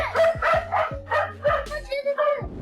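A dog barks in a quick run of about five loud, close yaps, then gives a couple more after a short pause. It is guarding children, and other sound runs faintly underneath.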